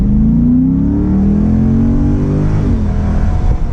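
A 2007 Ford Mustang GT convertible, top down, accelerates hard with a loud, close engine note whose pitch climbs steadily through a gear before dropping at a shift, running throughout with no talk.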